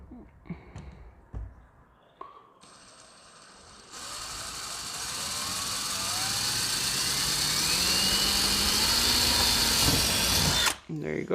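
A power drill bores a hole through a Mustang S550 bumper, starting with a few short bursts and then running as a loud, steady, rising whine for about seven seconds before stopping.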